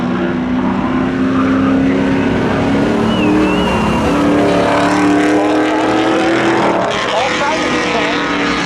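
Cars race in spectator drags at Seekonk Speedway, their engines roaring loud and steady with rising and falling pitch as they pass, while a voice talks over the noise.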